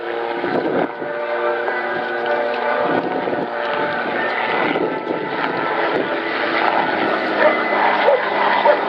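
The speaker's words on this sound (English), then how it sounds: "the United States Army issued a specification for a light observation helicopter capable of fulfilling various roles" A military light observation helicopter flies a display at the Southport Air Show, its steady rotor and engine drone holding loud and continuous throughout with no pauses.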